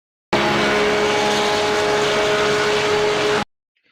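A Porsche GT3 race car engine at Daytona in the iRacing game holds a steady, loud, continuous roar for about three seconds, then cuts off abruptly, with no speech.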